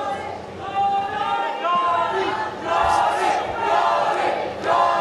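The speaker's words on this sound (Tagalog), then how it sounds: "And the crowd chanting the name of Jory Boy Sixta" A boxing arena crowd at a bout between undefeated fighters chants a fighter's name in loud, rhythmic waves, with a dense roar of many voices building and swelling throughout.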